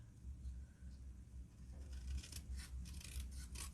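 Scissors cutting through card paper while making a shaker card, a quiet series of close crisp snipping and rasping strokes with soft handling noise.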